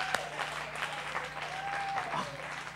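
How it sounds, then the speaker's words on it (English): Scattered applause from a small open-mic stage audience, fairly steady and moderate in level, with a faint tone and some background voices running through it. "All right, give him a round of applause."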